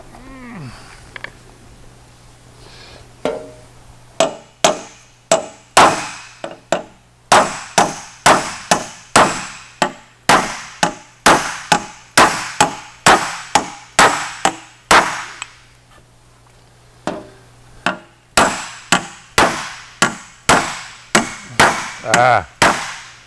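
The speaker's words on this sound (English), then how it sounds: "I brought a bigger hammer over here. Let's see if we can pound that down some." A bigger hammer pounds a metal Porsche 550 dash panel during metal shaping, delivering a long run of loud, close, ringing clangs in quick rhythmic bursts with brief pauses between sets.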